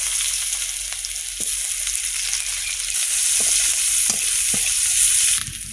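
Oil frying with five-spice (panch phoron) and dried red chillies in a pan, a loud, continuous hiss with a few sharp spatters and scrapes partway through, close up and with no talking.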